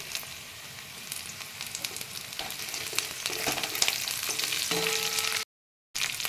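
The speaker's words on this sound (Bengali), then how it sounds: "এবার আমি এটা ভেজে নেব একটু এবার আমি কারি পাতা দিয়ে দিচ্ছি" Green chillies and curry leaves sizzle and crackle in hot oil in a pan for poha, a dense close frying hiss with scattered pops, cut by a brief gap of silence near the end.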